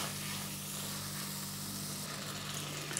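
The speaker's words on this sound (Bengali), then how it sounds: "এবার মশলাটা ভালো করে কষিয়ে নেব" Spice paste with chilli powder and slit green chillies frying in a pan gives a steady, close sizzling hiss that holds evenly throughout with no voices.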